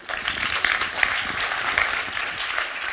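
Audience applause fills a conference talk on innovation and impact, a dense, steady wash of many hands clapping at moderate loudness for the full three seconds, with a faint voice underneath.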